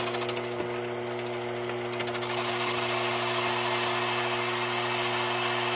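A metal lathe cutting a round cylinder for a replica aircraft oxygen bottle, producing a steady, close mechanical whine with a constant humming drone and faint cutting chatter throughout.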